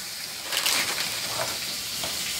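Chicken pieces sizzle and fry in a hot pan with spices, with soft scraping stir strokes over a steady, close crackle.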